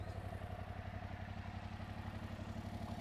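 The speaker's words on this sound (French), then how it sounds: "je démarre le moteur" A motorcycle engine idles steadily just after starting, with a low, even, continuous rumble and a faint rhythmic clatter close by throughout, and no voices over it.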